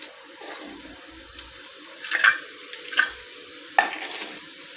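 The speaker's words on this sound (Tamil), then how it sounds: "இப்போ பாருங்கள், கடுகு நல்லா பொரிஞ்சிருச்சு." Mustard seeds and lentils frying in hot oil, a low crackling sizzle with a few sharp pops and spatters over a faint hiss, heard up close with no talking.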